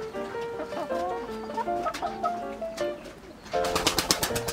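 Brakel chickens and a rooster cluck and coo in a busy, overlapping chorus close by, with sharper rhythmic clucking bursts toward the end.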